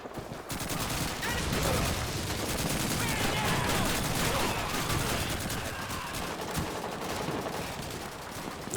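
Dense, continuous gunfire bursts and turret fire from the World War II shooter Call of Duty 2, a loud, rapid barrage that runs nearly unbroken with faint talk underneath.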